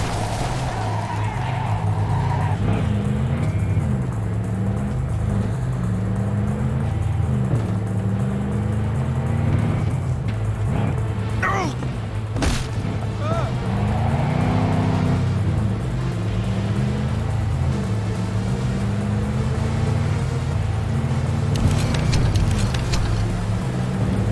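Car in Cyberpunk 2077 drives with a steady, loud engine drone, its pitch rising and falling through gear shifts, with tire squeals breaking in partway through.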